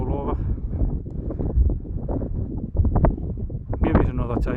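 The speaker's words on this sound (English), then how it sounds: "it's just far too windy." Strong wind on the hilltop at Long Crag in Thrunton Woods, Northumberland, buffets the microphone in continuous gusty roars, with someone talking through the blustery noise.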